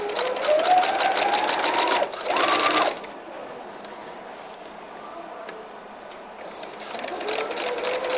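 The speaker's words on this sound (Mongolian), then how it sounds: "Энэ хүртэл оёод зогсно." A sewing machine stitches a quilt in short whirring runs, a longer run, a brief pause and another burst, then settles into a quieter hum, close and without talk.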